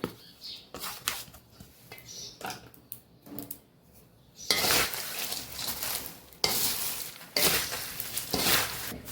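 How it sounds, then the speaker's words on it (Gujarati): Chevdo snack mix of puffed rice and flattened rice being stirred with spices in a pan, a busy run of scraping, rattling and rustling that grows louder and denser partway through, with no talking. "હવે બધું આપણે સરસ મિક્સ કરી લેશું"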